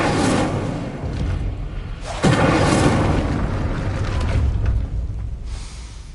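An Incendio fire spell erupts in Hogwarts Legacy with a loud, sustained fiery boom that swells again midway and rumbles on for several seconds before easing off.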